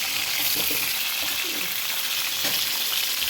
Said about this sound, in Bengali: এবার আমি পটলগুলো আস্তে আস্তে করে তেলের ভেতরে দিয়ে দেবো এবার পটলগুলো আমি খুব বেশি লাল লাল করে ভাজবো না হালকা ভেজে নেবো